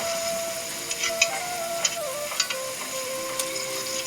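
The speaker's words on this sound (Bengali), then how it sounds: "তেলটা ফুটে উঠলেই আমি এবার পিঠেগুলোকে একে একে দিয়ে দেব।" Palm and coconut pitha drop one by one into heating oil in a pan, producing a soft hiss and light crackle with a few small bubbling pops, fairly quiet and without speech.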